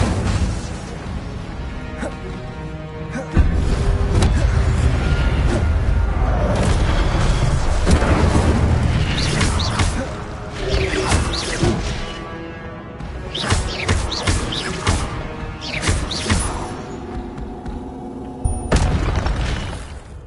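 An Incendio fire spell cast in a Harry Potter wizarding video game, a sustained roaring blast with booming bursts and crackling pops over about twenty seconds, loud and dense with intermittent sharp impacts.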